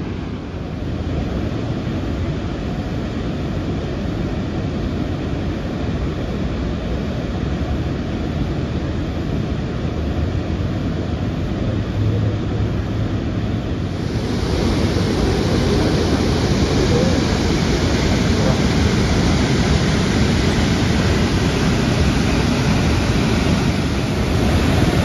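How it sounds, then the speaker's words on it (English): The world's largest waterfall complex roars as a broad, dense, steady wash of falling water, loud and unbroken throughout, with wind buffeting the microphone. "this is the largest waterfall complex in the world"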